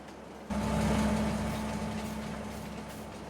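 A train in the Farming Simulator 22 farming game on the Yukon Valley map: after a quiet start, a steady mechanical rumble with a constant low hum kicks in suddenly and runs on, slowly fading slightly, with no talk.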